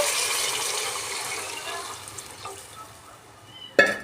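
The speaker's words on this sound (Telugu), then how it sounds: "ఇప్పుడు వాటర్ వేసుకుందామండి నేను ఆరు కప్పుల వాటర్ వేసుకున్నాను" Water pours steadily in a rushing stream into a cooking pot, six cups for moong dal khichdi, gradually tapering off, followed by a sharp metallic clank near the end.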